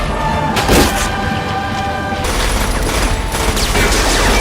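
A dense barrage of overlapping gunfire, loud and continuous, with sharp bursts layered over a rumbling, noisy background for the whole stretch.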